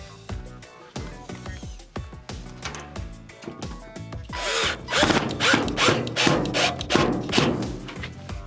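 A power driver drives T15 screws into a Whirlpool washer during a water inlet valve repair. Sharp taps and clicks come first, then a louder, grinding whir that rises and pulses through the second half, close and dry.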